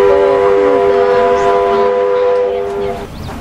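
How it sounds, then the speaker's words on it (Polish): A loud, sustained train whistle from a Roblox Wild West game holds steady, layered tones for about three seconds and then fades. "Pociąg."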